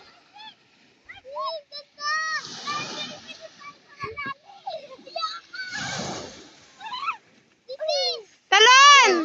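Children splash into a swimming pool on a family holiday, with repeated water splashes breaking up excited kids' shouts and chatter throughout, the voices close and loud.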